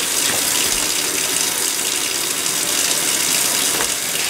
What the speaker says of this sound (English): let me turn on some cold water for rinsing